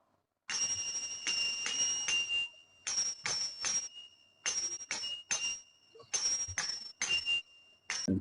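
Kartal hand cymbals play a three-beat rhythm, ringing metallic clinks struck in short bursts with brief pauses between groups, loud and close with no talk.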